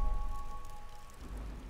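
Steady rain falling in The Witcher video game, a constant hiss of drops on surfaces with a low ambient hum, fairly loud and uninterrupted.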